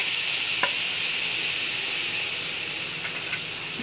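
Onion, tomato, green chili and ginger sizzle steadily in a hot pan, a continuous close frying hiss with a couple of faint stirring clicks and no talking.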